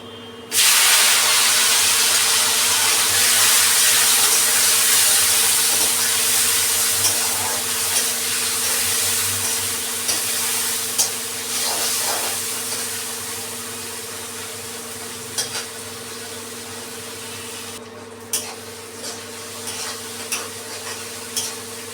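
Whole cumin, chopped onion and tomato fry in a pan with a steady, loud sizzle and hiss that runs almost throughout, with occasional stirring scrapes and a brief dip near the end, no voices.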